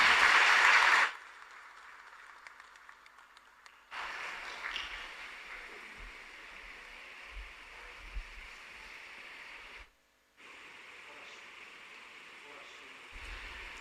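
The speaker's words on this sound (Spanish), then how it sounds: "Fuerte aplauso para el Señor" A church congregation at Mass in a parish in Asunción breaks into a loud burst of applause that lasts about a second and then cuts off, leaving a quiet, hollow room tone with faint noises.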